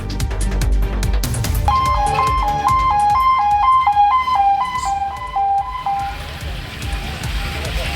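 An ambulance siren wails in a steady two-tone pattern, moderately loud amid road and engine noise, then fades away, on a road hit by a landslide near Coonoor in the Nilgiris district.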